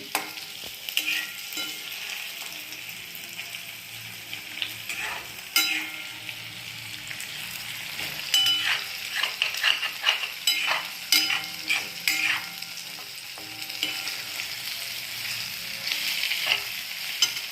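Chopped green chillies fry in hot oil with potato chips while being stirred for a sago dish, giving a continuous close sizzle broken by frequent scraping and stirring clicks, loud and steady throughout.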